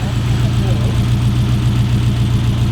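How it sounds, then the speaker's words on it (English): A V8-swapped drift truck with no catalytic converters and no muffler idles loudly and steadily nearby, a deep, continuous rumbling burble with no revving. "the drift truck is running"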